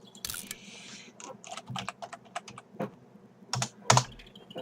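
Fingers tap out irregular bursts of keystrokes on a small computer keyboard, close and fairly quiet, with brief pauses between clusters and a couple of sharper, louder presses toward the end.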